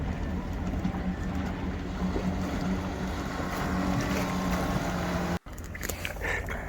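A boat motors across a fish-farm angling pond with net pens, its engine giving a steady, droning hum with wind and water noise, briefly cutting out near the end before resuming.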